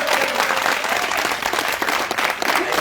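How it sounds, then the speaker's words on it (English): A crowd claps at an event with Sierra Leone's First Lady Fatima Maada Bio. Dense, continuous applause with many hands blending into a loud, even roar, with no voices over it. "Una no fit clap for this."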